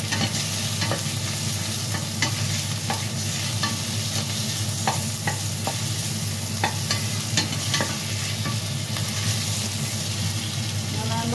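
Pakbet vegetables fry in hot oil with a continuous close sizzle, while a utensil scrapes and clinks against the pan in irregular stirring strokes throughout.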